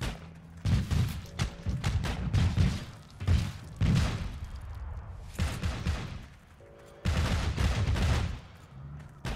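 Gunfire in the online war game Heroes & Generals, bursts of rapid shots and booming blasts in clusters, loud and close, with quieter gaps between volleys.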